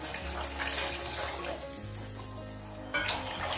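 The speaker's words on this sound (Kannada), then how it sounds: "ಇವಾಗ ನಾನು ನೀರನ್ನು ಹಾಕುತ್ತಾ ಇದ್ದೀನಿ" Water is poured into a hot pan of softened tomatoes for uppittu, giving a steady gushing splash over a sizzling hiss, then a brief louder surge near the end.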